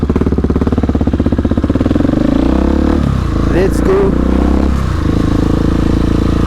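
A Husqvarna 701 motorcycle engine idles and revs close by with a throbbing, pulsing rumble, while a voice speaks briefly over it.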